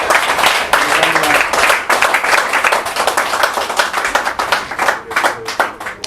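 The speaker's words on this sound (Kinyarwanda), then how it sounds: "Reka tubanze tumukomere amashyi." A gathered crowd claps for a speaker, a loud, close burst of brisk, fairly rhythmic hand claps that continues steadily throughout with little fading.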